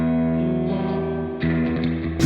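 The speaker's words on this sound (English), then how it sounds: "It's huge. Really nice and splashy." Electric guitar ringing through the spring reverb tank of a Cornford Hellcat amp, a sustained distorted chord that washes and splashes with heavy reverb, swelling again near the end as fresh notes are struck.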